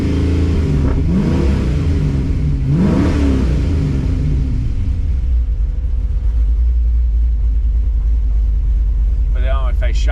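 A Pontiac Firebird with a swapped engine and low oil pressure revs up twice with rising rumbling surges, then settles into a low steady idle, loud and close throughout.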